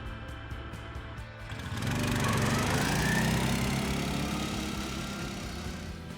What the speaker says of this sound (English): Now let's try carburetor engine.